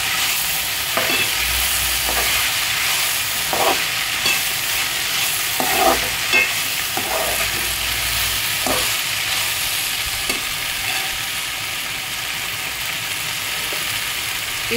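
Onions and potatoes fry steadily in a pan, a broad continuous sizzle with periodic scraping strokes from stirring, fairly loud and close, with no voices.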